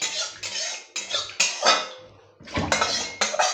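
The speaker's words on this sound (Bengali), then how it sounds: "কড়াইটা একটু ধুয়ে" A metal kadai used for cooking greens is rinsed and scrubbed, with close clanks, scrapes and clinks in short bursts separated by brief pauses.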